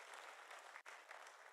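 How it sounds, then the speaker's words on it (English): Applause from the audience at the 2022 Nigeria Football Federation election, honouring the federation president: a steady, distant wash of clapping that continues without a break, with one very brief dip in the middle. "I crave for another round of applause for the NFF President."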